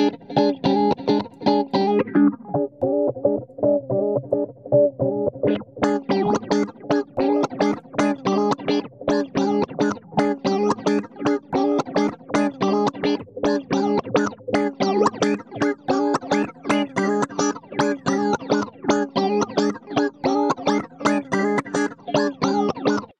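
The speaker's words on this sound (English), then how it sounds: "We enable the distortion and the LFO here." A distorted synth bass from a hardware clone of the BassBalls plugin plays a buzzy, gritty line, its tone pulsing in a fast, regular LFO wobble throughout.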